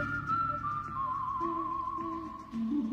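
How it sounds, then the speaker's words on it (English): A person whistles a wavering melody in one clear tone, holding notes and sliding between them, with a quieter lower layer of instruments beneath. "He's whistling."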